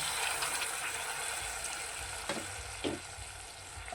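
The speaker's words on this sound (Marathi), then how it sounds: "आता आपल्या मटणाचं स्टॉक जो होता ना तो आता त्यावर टाकून घ्यायचा" Mutton stock poured over fried masala and oil for Kolhapuri tambda rassa sizzles and hisses in a steady, soft fry, with a couple of brief splashy bursts near the end and no talking.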